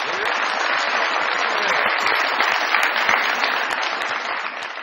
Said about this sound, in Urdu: بہت ساری تالیوں میں ویلکم کیجیے گا محترمہ ترنم ناز صاحبہ جی